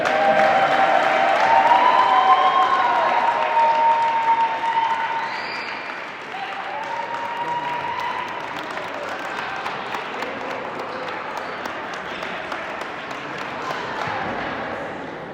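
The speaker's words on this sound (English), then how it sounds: "Please clap it up for AJ Mecki." A gym crowd at a senior night basketball recognition bursts into loud, sustained applause and cheering, strongest at first and then settling into steady clapping, with an announcer's voice over it.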